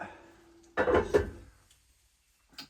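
A hollow clatter of a lid set onto a pot on a wood stove, two quick knocks close by, followed by quiet and a faint clink at the end.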